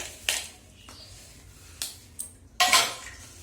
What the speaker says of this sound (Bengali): দুটো বাসন আছে, ধুয়ে নিই